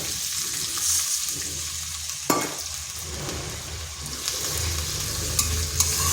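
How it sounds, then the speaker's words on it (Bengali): Pointed gourd sizzles steadily in a hot pan for a vegetarian dish, with a sharp hissing burst as a little water hits the oil, then continued frying with faint stirring clinks. "এখানে দিয়ে দিচ্ছি সামান্য একটু জল।"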